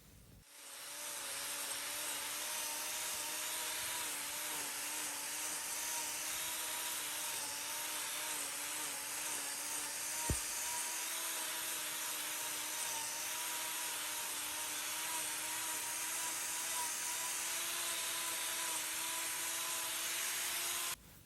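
A cow's front hoof horn being trimmed with a steady whining power grinder, a continuous high-pitched tool drone with rubbing, fairly faint and uninterrupted for about twenty seconds.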